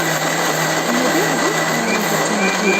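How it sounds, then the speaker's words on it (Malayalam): Electric mixer grinder blending sprouted fenugreek seeds into a paste, a steady loud motor whine with a whirring blade hum that holds constant throughout, with no voices. "ഇനി നമ്മൾ കുറച്ച് മുളപ്പിച്ച ഉലുവ എടുത്ത് നന്നായിട്ടൊന്ന് മിക്സിയിലിട്ട് പേസ്റ്റ് രൂപത്തിൽ ഒന്ന് അടിച്ചെടുക്കുക"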